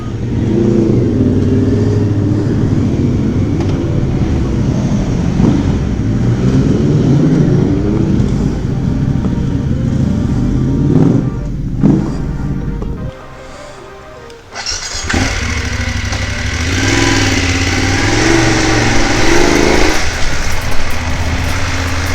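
Motorcycle riding on an open road, engine droning steadily and loud under heavy wind rumble, briefly dropping away near the middle before a passing vehicle's roar surges back in.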